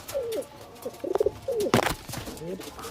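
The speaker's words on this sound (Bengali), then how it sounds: "এই দেখুন পায়রা দেখুন কেমন।" Pigeons cooing close by, several soft throaty coos in quick succession with some wing and handling noise between them.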